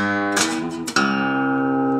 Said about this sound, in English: this signature bass rundown on the 5th string